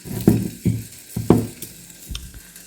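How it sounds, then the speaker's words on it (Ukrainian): Sausages sizzle in a hot pan while being stirred, with several scraping strokes over a steady crackle of frying. "Я ще смажу її сосиски"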